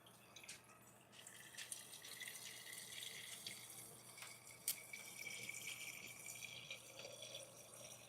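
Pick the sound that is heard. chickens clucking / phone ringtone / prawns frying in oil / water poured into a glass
water poured into a glass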